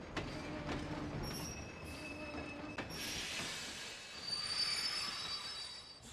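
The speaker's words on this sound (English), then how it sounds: "The train will be arriving shortly." A train pulling into a station in Kingdom Hearts II, with loud, sustained wheel squeal and screeching brakes over a rumbling rolling roar, with sharp metallic clanks early on.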